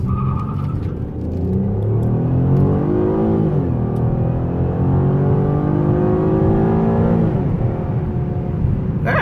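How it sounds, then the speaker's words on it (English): A 2020 Chevy Impala Premier V6 launching from a dead stop toward 60 mph: a loud, close engine roar climbing through the revs, dropping at two gear shifts and rising again, with no talk over it. "we're gonna see how quick I can get to 60 from a dead stop"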